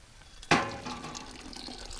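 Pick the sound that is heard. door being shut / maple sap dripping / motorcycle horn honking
maple sap dripping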